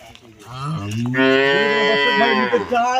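A pregnant cow of four-tooth age moos in one long, loud, close call that swells and holds steady for about three seconds, with no other sound.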